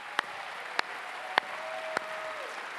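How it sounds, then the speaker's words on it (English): Audience applause at the BAFTA Cymru Awards 2024 ceremony is heard as a soft, diffuse wash of clapping behind several sharp, evenly spaced loud hits and a faint sustained tone, with no talking. "Can we have a big round of applause for everyone, please?"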